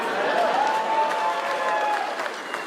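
An audience at a stand-up comedy show claps steadily for a few seconds, a dense, even wash of applause from a crowd.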